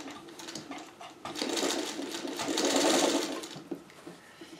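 A sewing machine runs close by, stitching around an inset circle on a churn dash quilt block at a slow pace, its whirring motor swelling and easing in two long bursts.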